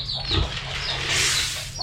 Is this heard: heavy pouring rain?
no